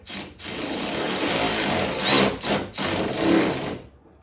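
A Milwaukee power tool whirs in several short bursts while driving fasteners on a Ford Super Duty taillight install, close and loud, with brief pauses between runs and no talking.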